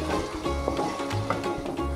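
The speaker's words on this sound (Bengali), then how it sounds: "এখন আমি মাংসগুলোকে কিছুক্ষণ ভেজে নেব।" Chicken meat sizzles and fries in a pan, a continuous crackling hiss with small pops and an occasional stir, close and clear with no voices.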